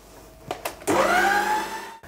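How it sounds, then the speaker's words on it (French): A kitchen food processor whirring up to speed as it beats eggs until frothy, a steady loud motor whine with rising pitch after a couple of brief clicks, then cutting off abruptly. "je mélange avec mon robot jusqu'à ce que ça devienne mousseux"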